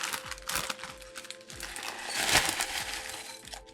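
A packet of instant ramen noodles is torn open, the plastic wrapper crinkling and crackling in irregular close bursts, with no talking over it.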